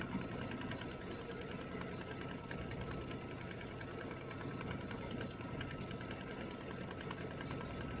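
An embroidery machine steadily stitching an in-the-hoop mug rug, a dense, continuous mechanical whir with rapid, even needle pulses running at constant loudness throughout, with no talking.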